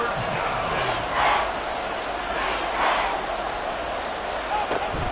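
A stadium crowd in a Madden football video game roars on its feet on third down, a continuous murmur that swells into two louder surges, with commentary voices heard over it.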